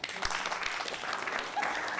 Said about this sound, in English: Now keep clapping if you're the favorite kid.